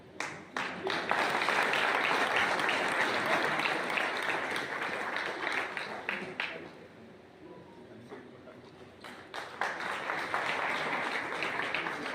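Sustained applause from an audience at a ceremony in Morena honoring the police superintendent over recovered looted gold. The dense clapping holds steady, eases briefly in the middle, then swells again.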